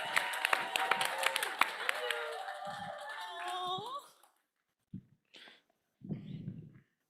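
An audience at a youth food lab final event applauding a speaker onto stage, a burst of clapping that fades out, followed by a few isolated sounds and a brief voice.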